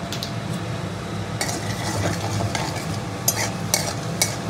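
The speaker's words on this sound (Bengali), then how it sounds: "এই তেলের মধ্যে একটু ফোড়ন দেবো, জিরে, শুকনো লঙ্কা, গোটা গরম মশলা" Cumin seeds, dried red chillies and whole garam masala sizzle in hot oil. A spoon stirs them with a few sharp scrapes against the pan, and no voice is heard over the close, steady crackle.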